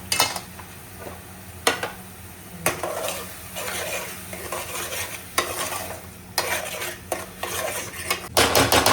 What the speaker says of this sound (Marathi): आता आपण हे पण मस्त मिक्स करून घेऊया.